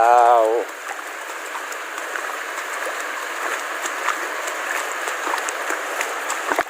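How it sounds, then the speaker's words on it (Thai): Steady rain patters densely on surfaces, an even hiss with scattered drops, after a brief voice at the very start. "ฝนก็ตก"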